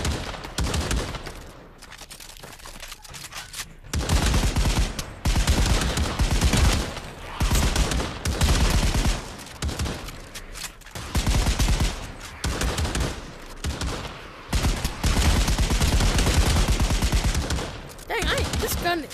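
Rapid bursts of gunfire from a weapon in the VR shooter game Pavlov, loud and close, repeating in strings of shots with short gaps between volleys.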